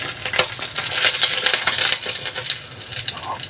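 Oil sizzles and crackles steadily as fish fries in a pan, with bright popping spatters and occasional stirring scrapes, close by and fairly loud.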